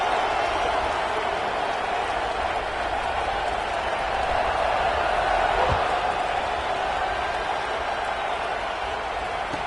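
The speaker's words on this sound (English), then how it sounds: "this crowd is buzzing after that last score" A football stadium crowd buzzes after a score, a dense, steady roar of many voices with a faint thud partway through, heard far off under a broadcast setting.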